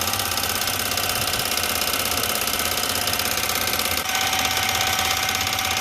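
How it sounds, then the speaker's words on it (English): A valve refacing machine grinds the face of an engine valve held in a spinning precision chuck, giving a steady, loud, continuous mechanical whir with a rapid fine chatter running throughout, with no voices. "And here you can see the old surface from the valve face it's just starting to grind"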